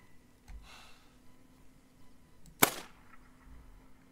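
A single sharp rifle shot in The Hunter: Call of the Wild, rabbit hunting at Layton Lakes, one crisp crack standing out against a quiet outdoor background with faint breathing.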